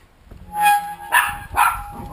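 A puppy gives a few quick, sharp yips and barks in a short close-up burst, about three bright calls in under two seconds.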